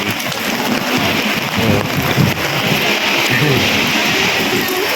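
Steady rain hisses over everything at the Ruins of St. Paul's in Macau, a dense wash of droplets with a low rumble beneath, continuous and fairly loud.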